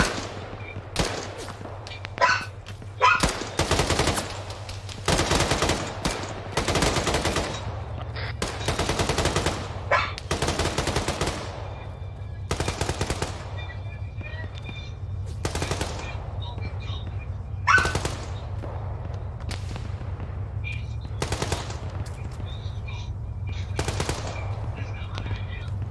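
Automatic gunfire from a military shooter game, repeated bursts of machine-gun fire cutting in and out over a low steady hum, loud and close, with occasional voices between bursts.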